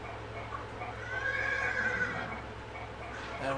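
A horse in a video game lets out a clear whinny lasting about a second over a steady low background hum, fairly faint and heard alone.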